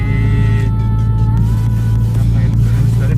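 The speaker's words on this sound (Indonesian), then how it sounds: "ini mesinnya masih responsif ya, gas-gasannya enak, enteng gitu ya." The engine of a 1995 Toyota Starlet rumbles steadily and close with a slight rise in pitch, while someone talks over it throughout.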